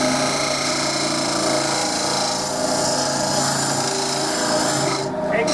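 A wooden cup spinning on a wood lathe is hollowed inside by a tool, giving a loud, steady scraping rasp with a humming drone that runs continuously and briefly dips near the end.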